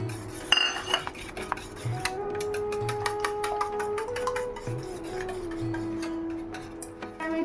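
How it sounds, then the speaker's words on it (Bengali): Two eggs beaten in a bowl for a homemade pudding: a utensil clicks and taps rhythmically against the bowl in quick strokes, with a steady tone humming underneath and no talking. "দুটো ডিম দাও এবার ভালো করে এটা ফেটে নেবো"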